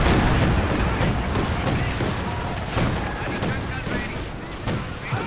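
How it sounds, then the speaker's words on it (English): Panzerwerfer rocket barrage in Company of Heroes 2, a 4v4 match on the Lanzerath map: dense, loud battle noise with repeated booms and crackling fire, overlaid by commentators talking. "Muno comes forwards for the Panzerwerfer barrage"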